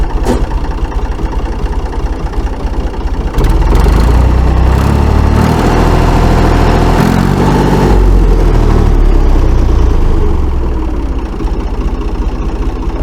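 A machine's engine at a farm auction of tractors and a jeep runs loud and close after starting, settling into a steady idle with a stretch of heavier revving in the middle.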